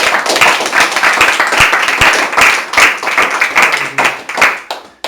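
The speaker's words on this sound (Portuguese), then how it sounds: "E mais um aplauso ao Senhor Jesus." A church congregation claps in applause, many hands striking in a loud, close, uneven burst that fades toward the end.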